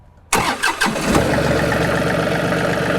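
A 2022 John Deere 3038E compact tractor engine cranks with a few quick starter pulses, catches, and settles into a loud, steady idle.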